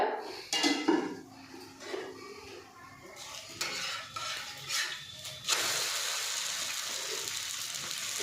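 A mutton kari dosa being flipped on a pan, with a spatula scraping and clattering against the metal in a few close knocks, followed by a louder, steady sizzle as the dosa settles on the hot surface.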